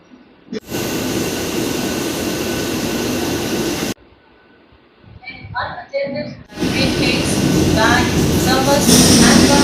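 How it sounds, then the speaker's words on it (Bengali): A local train from Howrah pulling into Belur station: a loud, steady rumble drops away abruptly, brief voices and softer sounds follow, then the heavy rolling noise surges back and builds. "প্রায় এক মিনিট বিফোর আমাদের ট্রেন এসে"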